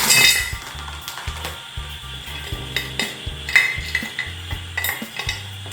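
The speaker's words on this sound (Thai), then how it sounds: "น้ำตาลกวดนะครับถุงนี้ครึ่งกิโลครับใส่เลยครับ" Half a kilo of rock sugar chunks tipped into a container for plum syrup, with repeated hard clinks and rattles as the lumps tumble and knock together, close and fairly loud.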